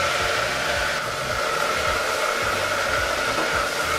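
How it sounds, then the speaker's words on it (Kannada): Mint leaves frying in a pan for mint rice pulao make a steady, loud, unbroken sizzling hiss throughout, close up with no voices. "ಇಲ್ಲಿ ಪುದೀನ ಸೊಪ್ಪನ್ನು ಸಹ ಸೇರಿಸಾದ ನಂತರ ಸ್ವಲ್ಪ ಹೊತ್ತು ಫ್ರೈ ಮಾಡ್ಕೊಳ್ತಾ ಇದ್ದೀವಿ"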